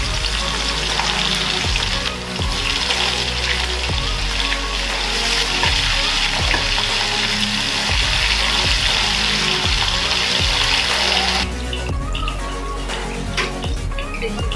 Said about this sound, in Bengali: তেল দেব, দিয়ে পনিরগুলো আমি ভেজে নেব।